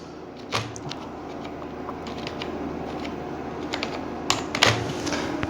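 Keys tapped on a computer keyboard while entering text into a Microsoft Word text box, a steady run of light clicks with a few louder taps near the end, close by and alone with no talking.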